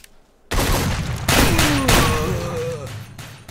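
Automatic gunfire in the S.T.A.L.K.E.R. Another Zone mod shooter: loud, close bursts crack in after a brief silence and keep rattling in dense volleys, with a faint voice in the background.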